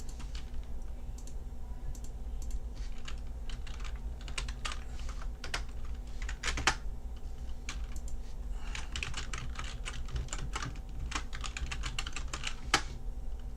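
Someone types a password on a computer keyboard, close and quiet, as a steady run of light key clicks with a few sharper taps and no speech.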